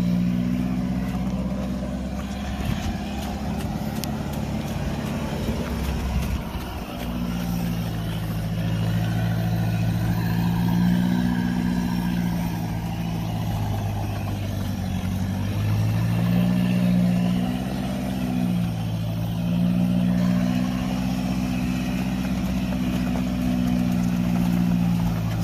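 A Roxor utility vehicle's engine labours at a low, steady drone while dragging a big International tractor out of the woods, its pitch rising and falling slightly as the load shifts, loud and close for the whole stretch with no talking.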